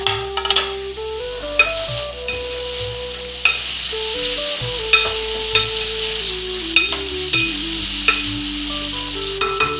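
Mango pieces drop into a brinjal curry that is frying in a pan. A loud, continuous sizzle runs throughout, with regular scraping strokes of a stirring spoon and sharp clinks against the pan.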